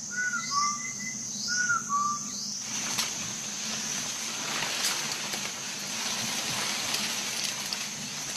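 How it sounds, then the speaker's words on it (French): Distant whistle calls answer one another in a jungle setting, a few short two-note whistles heard over steady forest ambience and insect hiss, followed by lingering faint background noise. "À leurs appels, dans le lointain, un sifflet répond."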